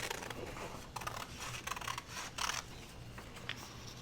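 Scissors snipping through paper pieces for a journal, a series of quiet, close, irregular cuts and rustles over several seconds with faint background hum.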